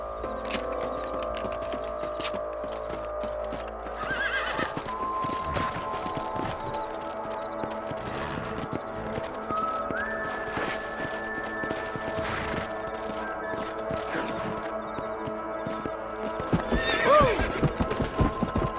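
Horses gallop with steady clip-clop hoofbeats and whinny loudly in the Western video game Red Dead Redemption, the hooves drumming continuously throughout while a sharp neigh rings out near the end.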